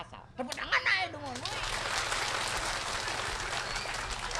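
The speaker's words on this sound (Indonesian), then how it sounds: "Tepuk tangan aja dong." Audience at a Balinese bondres comedy performance breaks into sustained applause and crowd noise, rising after a brief spoken line and continuing steadily, moderately loud.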